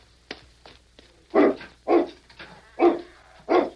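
A dog barks in a series of loud, sharp woofs, about five strong barks at an even pace after a few softer yips, near and alone with no talk.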